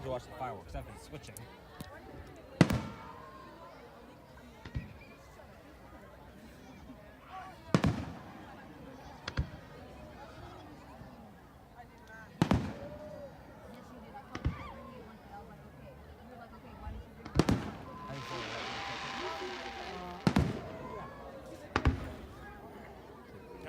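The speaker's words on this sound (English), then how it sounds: "I need to watch the fireworks." Fireworks at the Berkeley Marina pop and boom repeatedly at a distance, irregular bursts every few seconds with some crackle, under ongoing conversation from spectators nearby.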